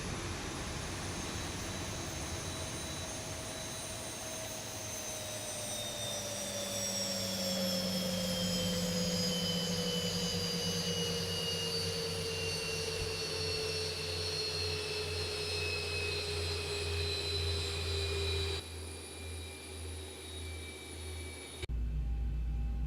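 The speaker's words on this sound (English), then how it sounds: "Engine shut down." A Boeing 737 jet engine spools down after parking, its high whine sliding steadily lower in pitch while a steady rumble continues underneath, heard from inside the cockpit with no talking.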